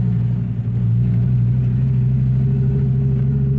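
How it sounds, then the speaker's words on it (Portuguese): A Fiat Marea's five-cylinder Fivetech engine gives a steady, loud, low rumbling drone that holds an even, unbroken tone throughout. "o ronco do Fivetech tem pra ninguém"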